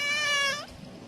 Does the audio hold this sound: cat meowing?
yes